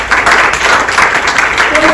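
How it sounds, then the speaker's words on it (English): Applause from a conference audience at a women's conference, loud and close with dense clapping that pulses in waves over a couple of seconds. "Let's give a round of applause for that"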